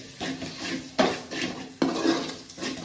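Spices for prawn curry being stirred and fried in oil in a pan, with a utensil scraping and clinking against the metal in repeated strokes over a soft background sizzle, close and moderately loud.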